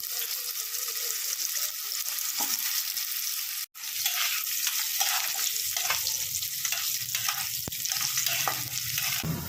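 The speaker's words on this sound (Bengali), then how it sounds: "এবারে অল্প আলু ভেজে নেব এতে" Potatoes frying in hot oil with whole cumin, bay leaf, cardamom, cinnamon and cloves; a steady close sizzle with bursts of bubbling and some stirring, one brief dropout midway, no voices.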